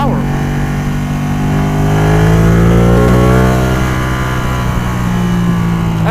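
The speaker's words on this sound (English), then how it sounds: "And it sounds great as well with this Terminione slip-on exhaust system." A Ducati motorcycle engine fitted with a Termignoni slip-on exhaust revs up loud and close, rising to a peak and easing back to a steady throaty drone. A voice can be heard faintly over the engine.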